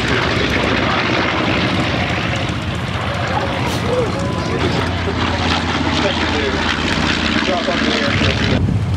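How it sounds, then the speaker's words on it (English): A B-25 bomber passing low and slow at a beach warbirds airshow, its piston engines a loud sustained roar with propeller drone, with people talking over it. "Beautiful flyby of the B-25. Nice and slow."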